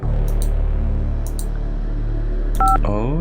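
A telephone keypad in the Phantasmagoria video game dials several quick DTMF tones in short clusters over a steady low hum, ending with a brief higher beep and a ringing tone.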